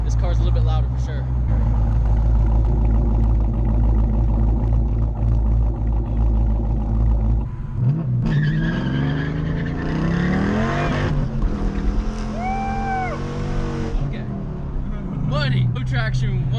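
A cammed 2013 Dodge Challenger R/T with long tube headers and Flowmaster Outlaw exhausts idles with a deep, choppy rumble, then roars up under hard acceleration, revving through gear changes close and loud.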